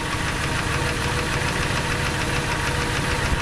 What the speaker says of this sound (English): at the motor running